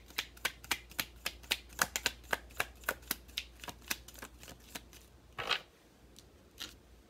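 Oracle cards shuffled in quick rhythmic riffles, about twenty crisp snaps in a steady run, close and clear, followed by a longer rustle and a couple of softer flicks.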